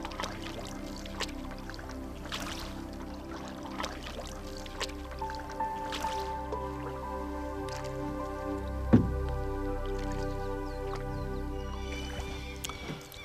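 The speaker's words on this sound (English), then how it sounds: "no motor, just the gentle sounds of the paddles" Kayak paddles dip gently into calm water in Norway with no motor, soft rhythmic splashes, drips and trickles close by, faint and unhurried over a quiet outdoor background.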